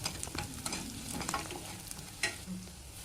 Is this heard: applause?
no